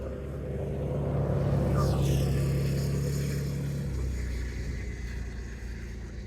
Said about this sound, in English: That vehicle is slowing down.